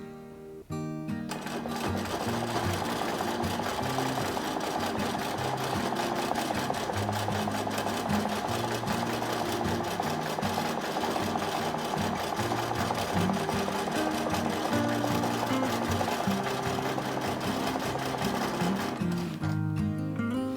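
A sewing machine stitches a grid of zig zags in one long continuous run, a steady rapid mechanical whir that starts after a second and stops near the end, close and moderately loud.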